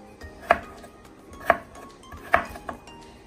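A knife chops chayote and carrot into long thin strips on a cutting board, giving four crisp knocks at an uneven pace, close up with no other sound.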